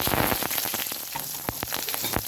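Raw green chillies sizzle and crackle in hot oil in a pan, with a steady frying hiss and scattered sharp pops, close and without talk.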